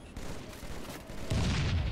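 Gunfire from Halo 3 multiplayer, including a sniper rifle shot, with dense overlapping battle noise that swells into a loud rumbling burst toward the end.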